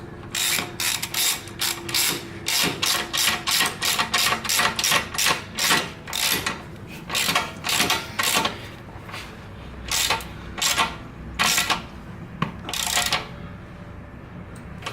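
A ratchet wrench tightens the exhaust Y-pipe clamp on a Yamaha YZF-R, giving rapid bursts of clicking strokes in a steady rhythm with short pauses between sets, close and clear.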